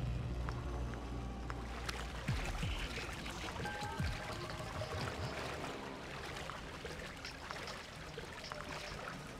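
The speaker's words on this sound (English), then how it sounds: "you make noise when you're in the water here" Stealth agent wading through water in Splinter Cell: Pandora Tomorrow, steady sloshing and splashing with brief trickles, continuous and moderately close over a low ambient game background.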